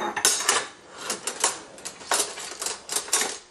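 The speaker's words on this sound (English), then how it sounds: "You sorting all the silverware?" A young child sorts silverware at home, metal utensils clinking and rattling in quick, irregular bursts at close range, with no talking.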